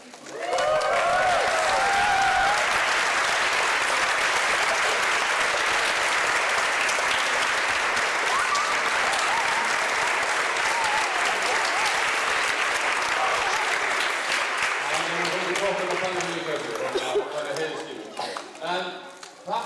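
An audience at an Icelandic event bursts into sustained, loud applause that carries on steadily before tapering off, with voices talking as the clapping fades.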